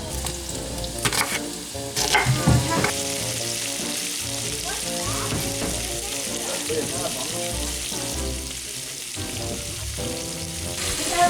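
Onion sizzles steadily in a hot frying pan in a home kitchen while bacon-wrapped tenderloin is being prepared, a continuous close crackle with a few louder clatters of utensils near the start.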